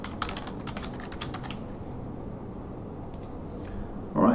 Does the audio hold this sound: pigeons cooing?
no